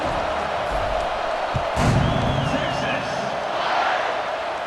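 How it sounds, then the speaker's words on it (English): A stadium crowd in the College Football 26 video game hums and roars in a broad, steady wash, with a brief thud and a swell of cheering near the middle and a faint whistle-like tone above it. "this crowd is buzzing after that last score"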